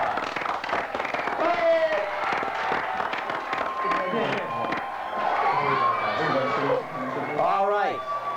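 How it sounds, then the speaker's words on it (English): An audience cheers and shouts excitedly after a quiz bowl game, with a loud crowd of young voices whooping and celebrating, and some clapping mixed into the lively, sustained noise. "Everyone give both teams a big round of applause"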